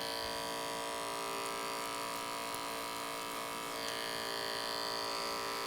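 Electric hair clippers fitted with a 1.5 blade buzz steadily up close while cutting hair in a side-part taper, a constant bright motor whine with a slight shift in pitch partway through and no talk.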